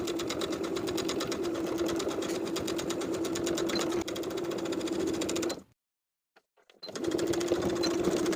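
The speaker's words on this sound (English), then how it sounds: "sew, this time catching the fly facing in your stitches" A sewing machine stitches the fly facing of lined cigarette pants in a steady, fast continuous run, stopping briefly near the end before starting again.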